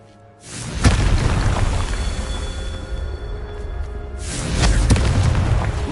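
A Confringo spell bursts in Hogwarts Legacy with a loud, deep boom and a sustained roar. A second blast near the end swells the rumble again, and no talk is heard.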